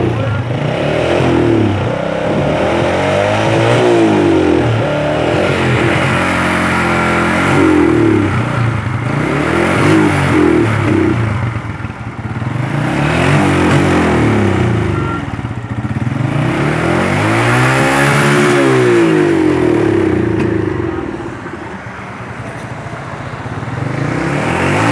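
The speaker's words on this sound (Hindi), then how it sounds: "इसका मसला ये है कि जो ही रेस देंगे तो ये बंद हो जाएगा, बार बार ये बंद हो जाता है" A 125cc motorcycle engine with a stalling fault revs up and dies again and again in repeated rising and falling surges, loud and close, with voices talking over it.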